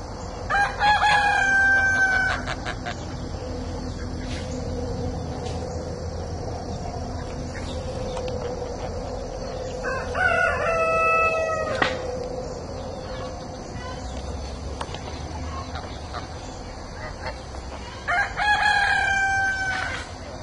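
Backyard chickens, including a pair of Partridge Wyandotte bantams, with a rooster crowing loudly three times, at the start, midway and near the end, over a steady low outdoor hum with faint insect chirps.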